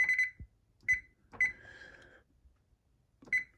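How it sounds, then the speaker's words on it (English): Kitchen timer being set for four minutes while making gluten-free pizza dough, a run of short, clear electronic beeps with uneven gaps, one longer tone in the middle, in a quiet room with no voices. "Okay, so we set a timer for 4 minutes."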